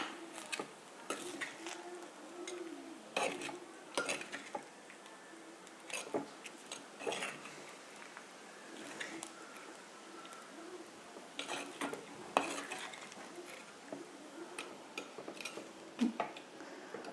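Ginger and green chillies are stirred in a pan, with faint scattered clinks and scrapes of a spoon against metal over a low, quiet kitchen background.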